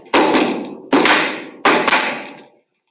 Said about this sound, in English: Kind of knock away the chips.